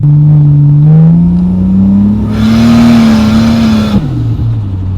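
A loud, deep single-turbo 575 hp Toyota Supra engine idles then revs up with a rising growl, holds briefly, and drops back to a rumbling idle.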